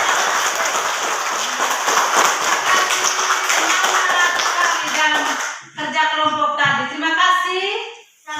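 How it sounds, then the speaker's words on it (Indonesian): Schoolchildren clapping in a classroom, loud and close, a dense burst of hand claps that thins out before a voice speaks over the fading claps near the end. "tepuk tangan profisiat untuk ketiga kelompok anak-anak"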